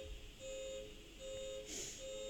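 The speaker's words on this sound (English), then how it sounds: "Sorry for the beeping." Intermittent electronic beeping outdoors in San Francisco, a steady high tone sounding in repeated bursts of about half a second over faint background noise.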